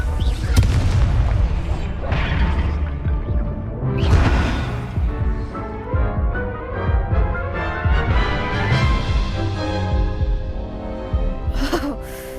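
Video-game Incendio and Confringo spells go off as a string of loud, booming blasts and crackling bursts, one after another, each swelling and fading over the next.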